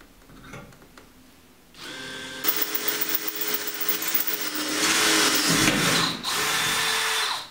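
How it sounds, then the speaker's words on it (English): An electric drill bores straight through a metal frame to fit a bolt for a motor mounting bracket on a DIY plate reverb, a loud steady whine that rises after a short quiet start and holds for several seconds. "I got to drill straight through the frame"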